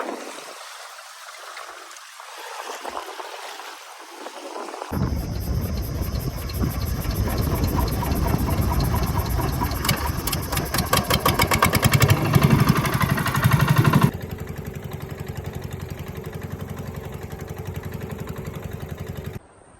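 A boat's motor starts and runs steadily while heading into a canal on a fishing trip, a loud close mechanical drone with a rapid pulsing rhythm that shifts pitch partway through, with no talk over it.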